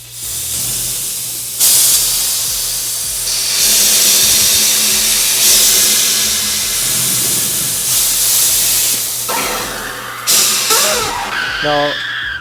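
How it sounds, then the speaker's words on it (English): Pressure vented through the relief valve of a Bauer compressor SCBA air fill station, a loud, steady broadband hiss that holds for about ten seconds before tapering off amid brief clanks and faint voices. "then I'm going to open up my relief valve, and that will release the pressure through the air line to the cylinder"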